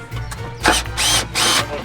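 A power drill whirs in three short bursts close by, drilling a drain hole, with brief pauses between them.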